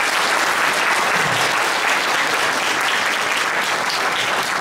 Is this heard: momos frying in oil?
no